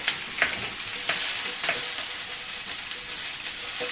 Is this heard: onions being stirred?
yes